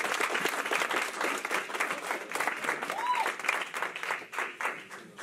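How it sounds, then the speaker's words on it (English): An audience at a seminary debate on Arminianism and Calvinism breaks into dense, sustained applause for a speaker, a close, even patter of many hands with no one talking over it. "let's just give him a round of applause"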